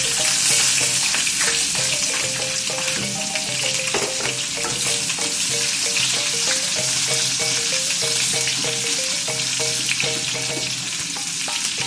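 Sliced shallots fry steadily in a hot pan, a continuous loud sizzle broken by repeated scraping stirs, with a steady musical tone running underneath throughout.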